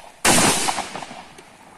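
A single loud blast from a TOZ-34 shotgun with a long rumbling echo that fades over about a second.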